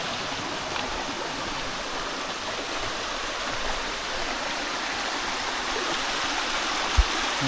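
Waterfall and stream at Hagi Falls in Gifu, Japan: a steady, continuous rush of falling and flowing water fills the scene evenly throughout, with a faint knock near the end.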